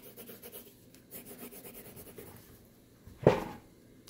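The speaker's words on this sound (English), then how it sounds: "I'm going to sketch it here" A pencil sketches a diamond shape on paper, making soft rhythmic scratching and rubbing strokes close by, followed by a louder single thump or scrape near the end.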